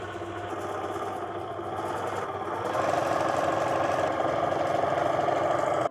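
A sewing machine stitches small straps, a close, steady motor hum with a fast rhythmic needle chatter that grows slightly louder partway through and runs without pause.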